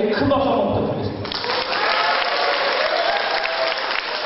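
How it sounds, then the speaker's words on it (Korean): Applause from a sizable crowd at a graduation ceremony, a steady dense patter of clapping that continues throughout at a fairly loud level. "우리 강사님들께 큰 박수 한번 부탁드리겠습니다"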